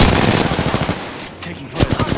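Dense rapid video game gunfire in an online shooter match, loud bursts of automatic fire close up with more shots trailing after a brief lull, a voice briefly heard underneath.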